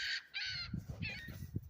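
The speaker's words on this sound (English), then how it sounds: "That's a seagull. This flew over." A seagull calls as it flies overhead outdoors, giving two or three harsh, raspy cries at moderate distance, followed by a low rumble of background noise.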